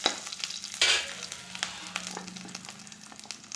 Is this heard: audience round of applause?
no